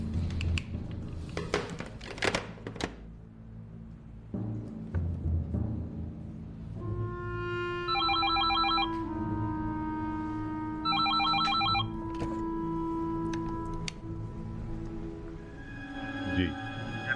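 A telephone rings in a dramatic interior scene, its repeated electronic trills coming in two clear bursts over a low background hum and scattered earlier sounds, with a faint later tone.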